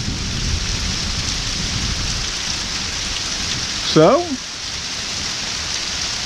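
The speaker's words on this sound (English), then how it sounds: "you can see the rain is torrential" Heavy torrential rain from a severe storm front in Deep South Alabama, a constant dense hiss of downpour throughout, with someone briefly speaking near the middle over it.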